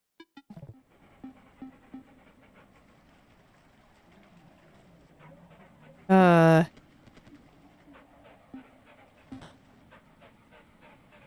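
Dogs pant steadily in the dog pit of the Animal Well video game, a soft rhythmic breathing bed under quiet game ambience, broken midway by one loud, brief chirping tonal burst.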